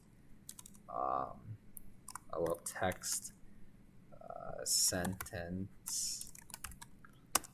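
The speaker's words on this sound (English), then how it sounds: "Suppose I type stuff, and here is a text," Computer keys clatter in short bursts of typing on a keyboard while someone talks over them in a quiet room.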